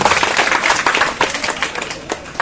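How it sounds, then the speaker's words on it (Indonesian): An audience at a high school Easter and national education day celebration gives a short burst of loud clapping, dense and close, tapering off toward the end. "Tepuk tangan buat Bapak Kepala Sekolah dan rekan-rekan guru."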